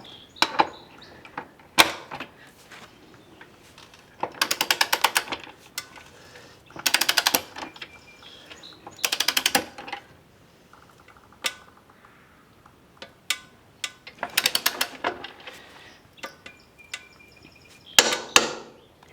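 Working on a Kawasaki ZX-6R wheel axle, a ratcheting tool gives repeated bursts of sharp metallic clicks, close and fairly loud, separated by short pauses and isolated single clicks.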